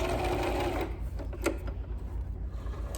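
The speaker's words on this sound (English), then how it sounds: "I'm going to pull my pin out and sew to the end. Reverse a few, and then sew off the edge." A domestic sewing machine stitches elastic onto a fabric face mask, running as a steady, close mechanical whir that continues through the clip with a brief change in pace midway.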